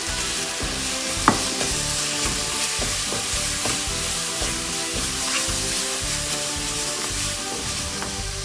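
Spices, including pav bhaji masala, garam masala, salt and turmeric, sauté in hot oil in a pan for anda keema, giving a steady close sizzle and crackle with a few scraping stirs.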